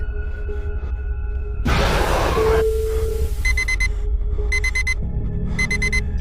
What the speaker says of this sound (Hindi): अलार्म की आवाज सुन